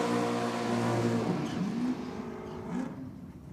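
A V6 engine in a sporty limited-edition Cordia idles with a steady low hum at close range, then rises and falls briefly as it revs.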